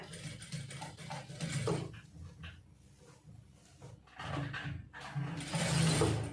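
Sewing machine stitching a blouse sleeve seam, with close mechanical whirring and clattering in bursts separated by brief quieter pauses, ending in a longer sustained run.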